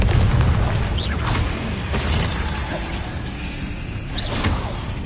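Confringo spell explosions in the Hogwarts Legacy video game, a continuous loud rumbling boom with bright shattering bursts and brief whooshing flourishes layered over the combat din.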